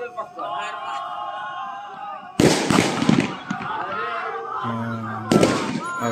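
During an NCC live firing drill, two loud blank-fire bursts crack out a few seconds apart amid outdoor noise and people talking nearby.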